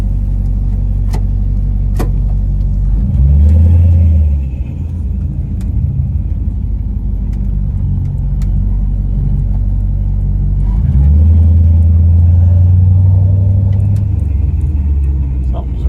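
A Dodge Coronet swapped with a Gen 3 Hemi, out on a test drive, gives a steady low engine rumble throughout, swelling louder and deeper twice as it pulls under throttle, with no talk over it.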